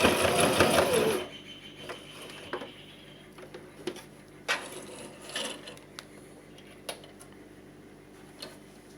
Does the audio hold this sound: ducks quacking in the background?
no